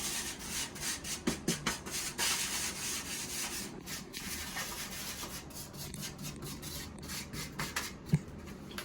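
Hardtack being rubbed and coated in flour, a steady soft dry rubbing and scraping with faint taps throughout, close and fairly quiet with no talking.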